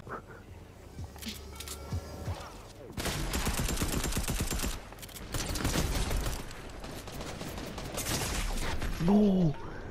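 Rapid bursts of gunfire from a shooting video game, with dense volleys and some single shots rattling on and off, then a short tonal game sound near the end.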